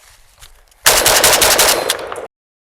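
A JTS AK12 airsoft gun fires one loud, close burst of rapid shots lasting about a second and a half, then cuts off sharply into silence.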